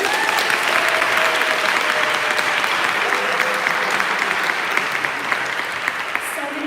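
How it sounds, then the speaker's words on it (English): A room full of people at a book awards ceremony applauds the honorees, a loud and continuous round of clapping that holds steady and tapers slightly near the end, with a voice faintly underneath. "Can I ask for one more round of applause for that?"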